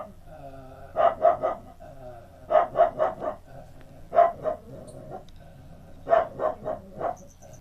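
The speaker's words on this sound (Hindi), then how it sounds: "वहाँ पर कुत्ते बार्किंग कर रहे थे" Several dogs bark near a home teaching setting, sounding in clustered bursts of two to four sharp barks separated by short pauses, fairly close and prominent over a faint hum.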